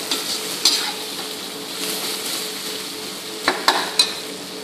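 Dosa masala sizzles and fries in a pan while being stirred, a steady hiss close by punctuated by a few sharp scrapes and taps of the spoon against the pan.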